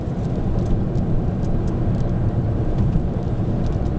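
An LPG-converted Mini Cooper drives over a humpback ridge, heard as a steady, fairly loud low engine and road rumble from inside the car with no distinct bump standing out and no talking.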